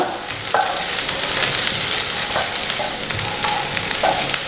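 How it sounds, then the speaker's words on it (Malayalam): Beans and cabbage sizzle and crackle steadily in a hot pan over high flame as they are stir-fried for restaurant-style egg fried rice, with occasional scrapes from stirring. "ഞാൻ ബീൻസ് ചേർത്ത് കൊടുക്കുകയാണ്. ഒപ്പം തന്നെ ക്യാബേജും നന്നായിട്ട് മിക്സ് ചെയ്ത് കൊടുക്കുക."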